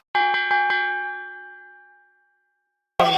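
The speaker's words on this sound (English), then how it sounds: "Listen for that bell, gentlemen." A boxing ring bell at a Andy Ruiz vs Jarrell Miller bout rings four quick, loud metallic strikes that ring out and slowly fade, followed by a sudden burst of crowd noise.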